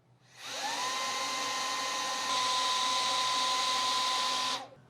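Wolfbox MF100 electric duster blowing at its highest level 3, a loud steady high-pitched whine and rush of air that spins up quickly, holds for about four seconds, then cuts off.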